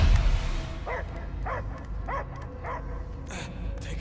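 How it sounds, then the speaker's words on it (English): In the Marvel's Guardians of the Galaxy video game, a dog barks four evenly spaced times at moderate volume over a steady, rumbling game background. "I hear only barking."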